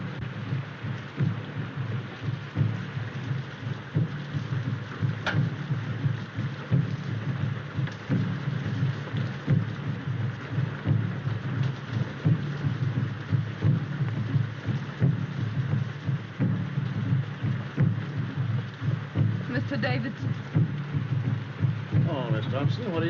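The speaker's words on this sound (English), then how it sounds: "This rain and those drums." Steady rain falls through a stormy night in a 1932 film, a dense continuous wash with low rumbling and faint rhythmic drumming in the background, no speech.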